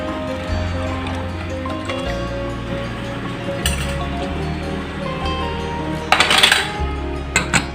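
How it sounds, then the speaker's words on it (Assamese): A spoon stirs chicken with turmeric in a metal pot, giving repeated scraping clinks and knocks at a moderate, close level, with a low steady hum running underneath. "এতিয়া লৰাই দিম ধুনীয়াকৈ"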